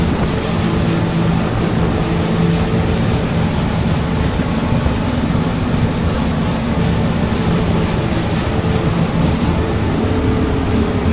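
A SeaVee 340B motorboat crosses rough water near Treasure Cay. A loud, constant engine drone blends with rushing water and wind noise throughout, with no voices.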